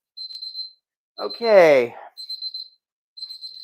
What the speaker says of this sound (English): let's turn off the alarm